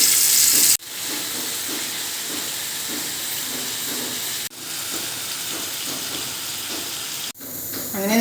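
Marinated chicken fries in hot oil, giving a loud steady sizzle and hiss in three long stretches separated by brief sharp cuts, with no voices.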